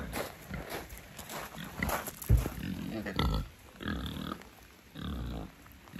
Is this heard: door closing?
no